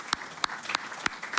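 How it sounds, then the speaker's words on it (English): Quiet audience applause for a panel at a talk on a general pardon petition, with several distinct, evenly paced claps over a soft bed of hand-clapping. "Give a warm applause to the panel."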